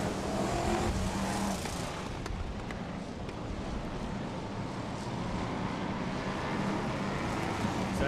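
BriSCA Formula 1 stock cars racing on the Birmingham oval in 1992, a dense, continuous engine roar from the pack pulling away at the green flag, heard from trackside with no clear voice.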